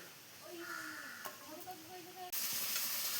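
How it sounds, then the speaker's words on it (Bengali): Fish frying in oil on a clay stove: voices talk first, then a loud, dense hiss of frying bursts in abruptly and holds steady to the end. "ফার্স্ট মাছ এগুলো ভাজা হবে সুন্দর"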